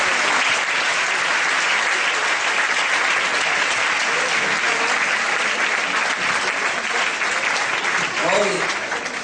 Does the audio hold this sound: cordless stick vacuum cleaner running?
no